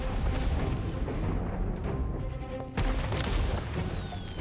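Atmosphere charm spell in the Harry Potter: Magic Awakened game bursts out with booming, crashing impacts and a brief whooshing swell, layered with a busy game soundtrack.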